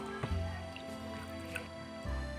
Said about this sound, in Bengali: চিড়েতে বন্ধুরা অনেক নোংরা থাকে ধানের ছিটে ফিটে এসব থাকে সেই জন্য চিড়েটা ভালো করে ধুয়ে নিতে হবে